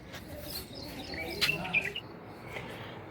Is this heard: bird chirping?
yes